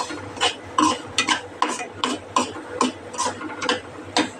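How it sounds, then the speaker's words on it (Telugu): Wheat flour is dry-roasted in a pan on a low flame for rava burfi. A spoon scrapes and stirs in regular, close strokes over a faint low hum, with no talking. "మనం దీంట్లోనే 2 టీ స్పూన్ గోధుమ పిండి వేసుకుని దోరగా వేయించుకుంటాము."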